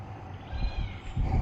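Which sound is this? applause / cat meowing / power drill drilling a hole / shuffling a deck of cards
cat meowing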